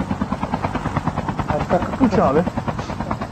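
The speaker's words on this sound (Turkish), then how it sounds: "Helikopter." A helicopter in the Call of Duty Mobile video game thumps with a rapid rotor chop close by, running beneath excited voices talking over it throughout.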